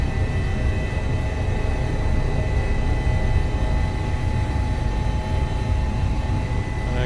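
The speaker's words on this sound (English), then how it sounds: "The helicopter doesn't feel as manoeuvrable as it normally does." Helicopter flying over the Alps, a steady, loud rotor and engine drone that stays constant and unbroken throughout, with no voices.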